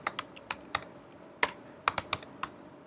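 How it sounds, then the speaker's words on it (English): Keys tap on a computer keyboard while someone types into a plugin search box, about ten crisp, close clicks in an uneven rhythm over a quiet background. "When you stop typing in that search box"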